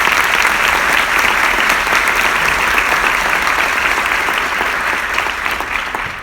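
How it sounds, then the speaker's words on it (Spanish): Strong sustained applause from a large audience at a talk, a thick wash of many clapping hands that holds for several seconds and eases slightly toward the end. "Un aplauso muy fuerte para ellos,"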